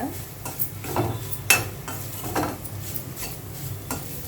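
Grated coconut being stirred in ghee in a kadai, with a soft sizzle under repeated scraping strokes of a spoon against the pan, close and moderately quiet.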